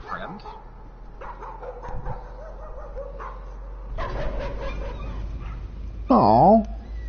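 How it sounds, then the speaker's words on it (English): A puppy whimpers in a PS4 video game, a high whining yelp rising near the end over faint background game audio, with people talking around it. "Did not enjoy hearing all the whimpering."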